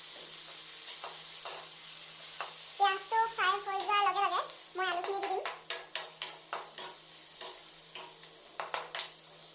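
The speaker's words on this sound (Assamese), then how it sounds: "পিঁয়াজটো ফ্ৰাই হৈ যোৱাৰ লগে লগে মই আলুখিনি দি দিম।" Chopped onions fry in a pan during hostel cooking, a steady sizzle broken by bursts of clinking, scraping stirring and repeated sharp taps of a utensil against the pan, close and fairly quiet.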